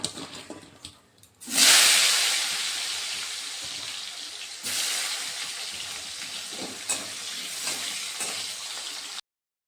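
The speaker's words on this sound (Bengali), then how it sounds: "এখন আমি আলুগুলোকে ভেজে নেব।" Potato pieces rubbed with salt and turmeric hit hot oil in a pan with a loud burst of sizzling. The sizzle settles into a steady, close frying hiss, broken by a few stirring sounds.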